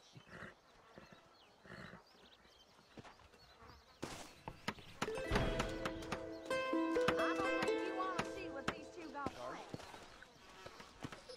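A horse in Red Dead Redemption, with hoof clops and a whinny mixed among game sounds and a musical jingle, while people talk over it in the background.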